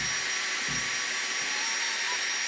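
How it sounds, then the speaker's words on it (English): A thin metal drill bit boring into wood, giving a loud, steady, close whirring motor drone that runs unbroken for a couple of seconds, with no talk. "I'm using thinnest bit I can find, which is actually a metal one, so it's fairly useless going into wood, but it will do"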